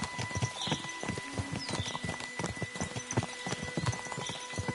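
Horse hooves clip-clop in a quick, steady rhythm on hard ground in the medieval video game Kingdom Come Deliverance 2, with faint background music and ambience under the steps.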